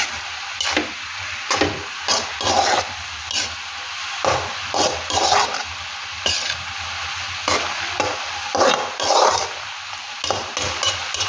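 Red amaranth leaves cooking down in a pan, stirred with repeated rhythmic scraping strokes and clacks over a steady sizzle, close and fairly loud, no talking.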